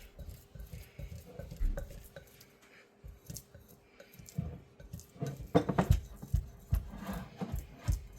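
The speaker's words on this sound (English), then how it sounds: "I really want to scrape down my edges here." A utensil scrapes around the inside walls of a jar of sourdough starter, giving quiet irregular scratches and knocks that turn into louder clustered scraping near the end, close up with no talk.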